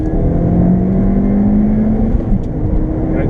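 A Ford Fiesta ST MP215 and a Porsche Boxster S 986 launch hard from a standstill, engines roaring loudly and close with a rising tone as they accelerate together, with no talking.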